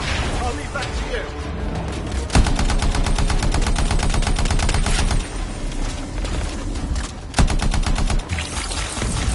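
Dense, continuous video-game gunfire aimed at a Strider, rapid automatic bursts with a couple of sharp breaks, loud and close throughout, unbroken for most of the stretch.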